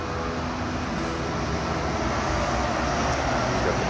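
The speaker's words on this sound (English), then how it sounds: "You can hear a little bit of the cars going by." Steady traffic noise of cars going by on the Galveston seawall road, a continuous broadband wash heard from some distance and blending with ocean surf.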